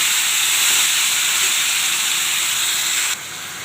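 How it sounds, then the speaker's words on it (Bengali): Chicken meat added to a hot pan hisses in a loud, steady sizzle, dropping slightly in level toward the end. "দেখুন চিকেনটা দিয়ে দিচ্ছি।"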